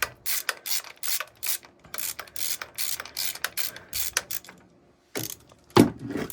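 A ratchet clicks in quick bursts of strokes while screws are backed out of the primary cover on a 2005 Harley Sportster 1200, with short pauses between runs and a final pair of louder clacks.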